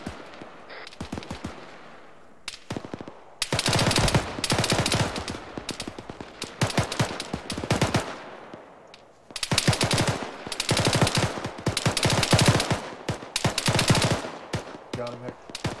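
Gunfire in a field training exercise: long rattling bursts of rapid automatic fire alternate with single close shots, loud and sustained, with brief pauses between volleys and faint voices underneath.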